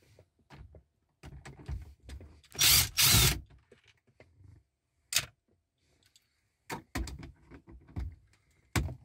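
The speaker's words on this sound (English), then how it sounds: "Okay, so now we can get to the Phillips screws. So I'm going to put my drill bit in," A power drill whirs in a loud burst of about a second while removing Phillips screws from a BMW E46 3 Series stereo, with shorter whirs later, amid handling clicks and faint movement nearby.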